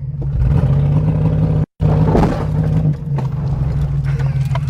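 A truck called El Toro rams a fence post: loud continuous engine roar, a brief cut-out, then a harsh clattering impact and rattling as the engine keeps running.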